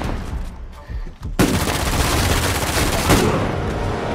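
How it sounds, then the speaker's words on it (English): Gunfire rings out in the video game Uncharted 4: a few scattered shots first, then dense, continuous rapid fire and booms. Loud and sustained, with no talk over it. "Dude, someone is shooting from..."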